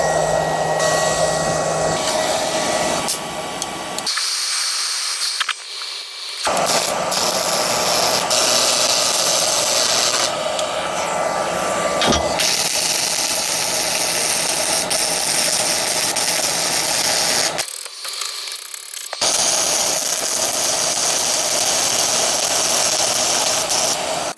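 A cheap $89 TEMU welder lays a bead onto a thick steel plate, making a loud, continuous crackling hiss that stops twice for a couple of seconds before resuming.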